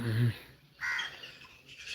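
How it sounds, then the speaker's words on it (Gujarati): Crow-like caws ring out near a lake with an island at a temple site: one sharp call mid-clip amid other bird calls, with a person talking nearby at the start. "સુંદર વાતાવરણ પક્ષીઓનો કલરો"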